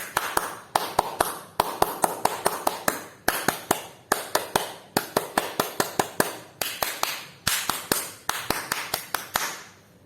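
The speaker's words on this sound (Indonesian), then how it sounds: "3 kali tepuk pramuka" A group performs the Indonesian scout clapping routine (tepuk pramuka) three times, with sharp, rhythmic hand claps in a repeating patterned beat, crisp and fairly close, with brief pauses between the rounds.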